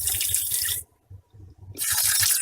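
Water spraying and hissing from a cracked fitting on a water main, loud and continuous, cutting out for about a second midway before surging back just as strong.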